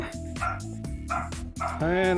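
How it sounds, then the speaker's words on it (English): A dog barks outside, coming in through an open window, giving a quick run of loud yips and bow-wows that ends in a drawn-out whining bark. "it looks like I've got the dog barking and coming through the window"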